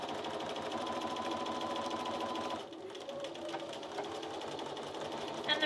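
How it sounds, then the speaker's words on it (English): A sewing machine with a walking foot stitches through quilt fabric, a steady close mechanical whirring hum that runs continuously, then dips and continues slightly softer. "I'm just going to sew a half of an inch away from there."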